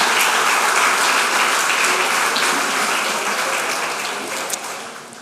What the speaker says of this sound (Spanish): denle un aplauso al Señor, denle gloria al Señor.